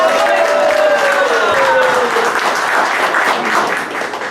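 Applause fills a union seminar hall for José Calixto Ramos, labor confederation president: a thick, steady wash of many hands clapping, loud and continuous, with a faint voice tone through the first seconds, easing slightly at the end.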